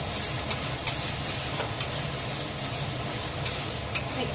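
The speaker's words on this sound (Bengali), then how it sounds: "এবার এটা নাড়িয়ে নেব" Fish curry stirred in a pan, a continuous close sizzle with regular light scraping taps of the spoon against the metal, no voices.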